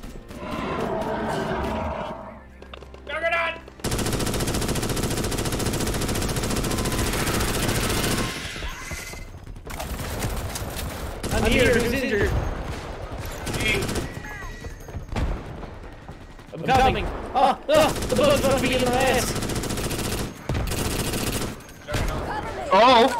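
Dense automatic and rapid gunfire rattles through a frantic Starship Troopers: Extermination bug fight, loud and sustained in long bursts with brief gaps, while players shout over it.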